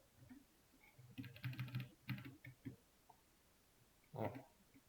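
Keys pressed and a click on a computer keyboard and mouse, a few soft close taps with quiet talk over them.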